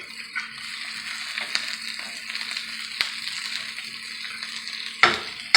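Vegetarian sausage frying in a pan makes a continuous close sizzle, broken by occasional crackles and a couple of sharp knocks of a utensil against the pan near the end.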